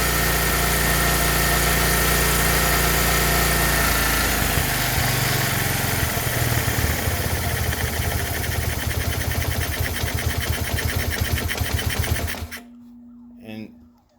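A 1977 Kawasaki 200 motorcycle engine idling after a carburetor adjustment, a loud steady mechanical putter held for about twelve seconds before cutting off abruptly, leaving a faint hum.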